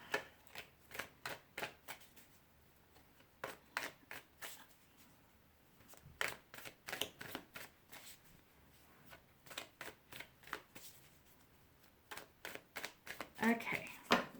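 Tarot cards are shuffled repeatedly, a series of quick riffling and flicking bursts close by, with brief pauses between rounds.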